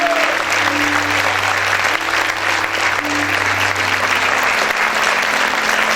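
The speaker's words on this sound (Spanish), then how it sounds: "Aplaude fuerte al Señor." Loud, continuous applause fills a church as the congregation claps together, thick and even from start to finish, over a low sustained musical drone.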